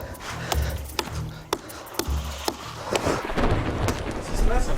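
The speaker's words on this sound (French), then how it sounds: "Il pleut." Steady rain hiss with sharp periodic knocks and low rumbling, like a storm overhead, heard close and continuous throughout.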